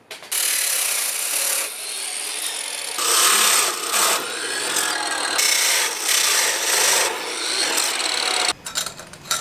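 Abrasive cutting and trimming of metal intercooler piping for a custom pie-cut build, heard as a loud, continuous rasping grind with shifting intensity throughout and a brief pause near the end.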